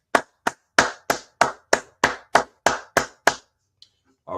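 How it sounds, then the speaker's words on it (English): A small audience claps in unison in about ten sharp, evenly spaced beats, close and loud, and then the claps stop. "Clap it up."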